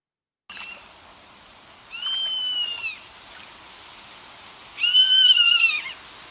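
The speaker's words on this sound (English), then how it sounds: "let's listen to the zone tail hawk" Zone-tailed hawk calling in southeastern Arizona: two drawn-out, descending screaming whistles, the second louder and closer, separated by a quieter pause over a faint, steady background hiss.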